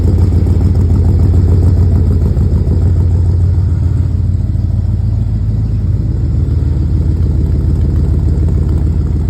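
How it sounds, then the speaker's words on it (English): A 1965 Oldsmobile Starfire convertible with a 425 Rocket V8, automatic transmission and side-exit exhaust idles close by, giving a steady, even low rumble with a faint mechanical clatter throughout. "Let's go listen to that exhaust here."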